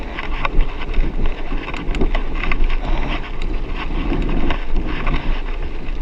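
Wind buffets a microphone during a bicycle ride, a loud, continuous rumbling roar with gusty swells that covers the whole stretch.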